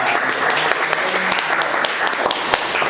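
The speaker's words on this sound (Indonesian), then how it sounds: "Tepuk tangan dulu" A classroom group applauds after a student team's presentation receives its grade, a steady, dense wash of many hands clapping throughout with a few sharper claps standing out.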